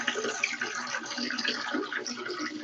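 A continuous splashing stream of liquid, like someone urinating into water, steady and fairly close throughout with no pauses.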